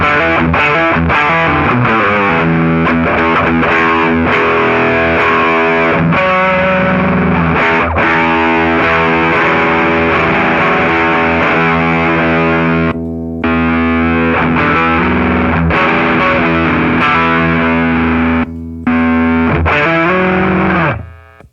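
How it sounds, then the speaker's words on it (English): Electric guitar played through ProCo Brat and Roadkill distortion pedals, a loud, dense, saturated tone of sustained chords with only brief breaks, ringing out alone to a fading finish. "The Brat sounds tighter, but the Roadkill sounds wider sounding."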